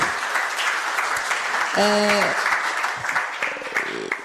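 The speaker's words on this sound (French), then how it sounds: "Je vous remercie sur vos applaudissements." Audience applause after a conference talk on corporate social responsibility, moderate and steady, with voices and a brief electronic tone partway through.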